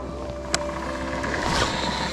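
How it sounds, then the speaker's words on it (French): A low, steady drone from a float-tube fishing boat motor rumbles throughout, with a brief sharp knock early on and a slight swell near the end. "C'est votre moteur qui fait ce bruit là?"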